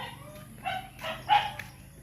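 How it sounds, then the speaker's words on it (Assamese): Dogs bark in a rural village, three or four short, fairly faint barks spaced across two seconds against a quiet background. "এইফালে কুকুৰকেইটাই পূৰা ভুকি আছে।"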